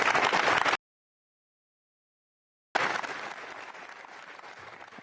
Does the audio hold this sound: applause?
yes